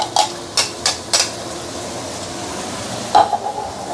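A spoon scrapes and knocks against a hot pan as a blended paste goes in for an Assam-style fish dish, several sharp clinks over a steady low sizzle, with no one speaking.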